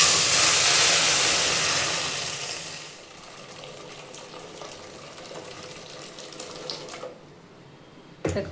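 Hot water pouring into a mix of ragi flour and semolina in a kitchen, a loud rushing stream at first that fades to a quieter trickle, then a brief knock at the end, with no voices.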